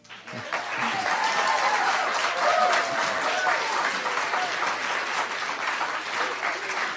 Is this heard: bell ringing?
no